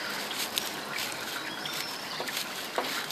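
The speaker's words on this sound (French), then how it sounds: "c'est de faire traverser notre fil de fer à cette petite botte de paille" Iron wire pushed through a small bundle of straw while building an insect shelter: close, continuous crackly rustling with a few sharper snaps, quiet and steady for about three seconds, with no talking.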